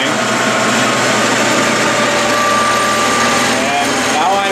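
A metal lathe spins a centrifugal clutch at around 500 to 1,000 RPM, giving a loud, steady high-pitched motor whine with a slight rise in pitch near the end, close and continuous.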